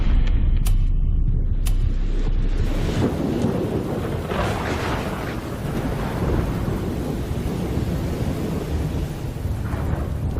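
Thunderstorm rumbling as a tornado approaches Tuscaloosa, Alabama, a steady loud low roar of thunder and wind with rain, continuous throughout with no voices.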